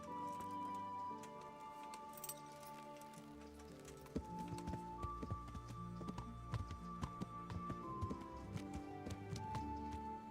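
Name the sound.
horse hooves, from the video game Kingdom Come: Deliverance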